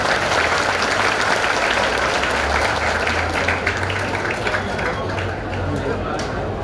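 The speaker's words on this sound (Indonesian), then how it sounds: "Beri sambutan tepuk tangan meriah jamaah sekalian" A large congregation at a Muhammadiyah gathering in Kulon Progo claps loudly and steadily, a dense sustained wash of applause with faint crowd murmur beneath.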